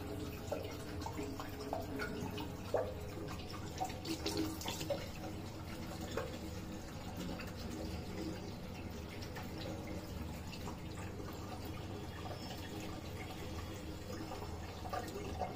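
Tap water running steadily into a sink while a hair-dye stain is washed off with Dettol hand wash, a faint, continuous splashing stream with small drips and no talking.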